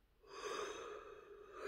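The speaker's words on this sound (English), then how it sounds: "I'm going to yawn" A person yawns close by, a single drawn-out breathy exhale that swells quickly and holds steady for over a second, with no talk.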